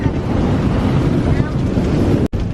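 Strong wind roars across a sailboat at sea on the Atlantic Ocean, a loud, steady buffeting rush close to the microphone that drops out for an instant near the end.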